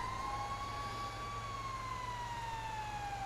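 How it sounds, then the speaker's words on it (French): An ambulance siren wails in Los Angeles, its single tone slowly rising and falling as it carries from a distance over a steady low rumble of city traffic. "Ah, une ambulance."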